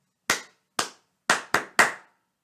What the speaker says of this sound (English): I'm going to clap some beats and I want you to clap them back.